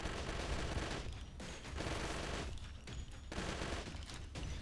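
Automatic rifle fire in the shooter game Left to Survive, sustained bursts of rapid shots in several runs separated by short breaks, fairly quiet overall.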